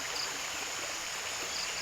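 A flowing stream in San Martin, Prosperidad, Agusan, heard as a steady, close wash of rushing water that stays even throughout with no voices.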